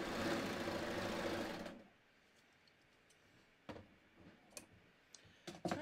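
A serger trims and chains off the edge of knit fabric for pull-on pants, a loud steady whirring run that stops abruptly, followed by quieter handling clicks and taps.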